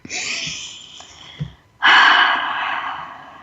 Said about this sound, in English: Take another breath.